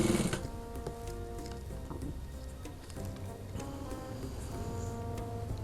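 A sewing machine stitches a band collar, a continuous close mechanical whir with rapid ticking needle strokes throughout, quiet and steady with no talking.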